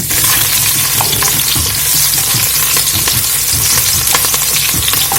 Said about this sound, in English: I'm heating 2 tablespoons of coconut oil, and to that I'm gonna add 2 cloves of garlic, 2 sprigs of thyme, and 1 stalk of scallion.